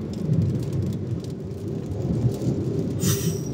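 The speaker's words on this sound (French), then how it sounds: "il y a beaucoup de vent là, par contre, c'est horrible" Strong wind roars and buffets continuously during an arcus cloud storm in the Beauce, France, a dense low rumble with gusty surges, heard close without any talking.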